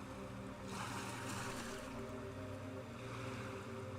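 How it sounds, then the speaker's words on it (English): Water washes and splashes against a ship's hull, a continuous rushing wash that swells in the middle, mixed with a steady low hum and wind. "the occasional splash of water against the hull of the ship"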